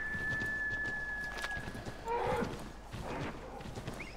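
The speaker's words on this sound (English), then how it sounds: "We're doing random horsey leaps." A horse gallops in the video game Assassin's Creed 3, a quick rhythmic clip-clop of hooves running steadily under game sounds, with a brief whinny-like flourish midway.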